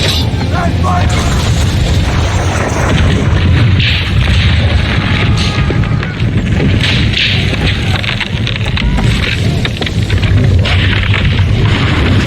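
Ship cannons firing during a naval battle in Assassin's Creed III, a sustained roar of booming blasts and wind-like rumble that fills the clip, with voices shouting faintly through the din.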